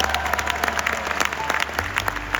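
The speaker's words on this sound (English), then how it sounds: "you should give me a round of applause, right?" Audience at an organizational talk breaks into applause. Scattered, distinct hand claps sound over a low hum, with separate claps standing out more than a smooth wash.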